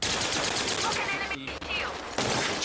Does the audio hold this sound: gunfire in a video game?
yes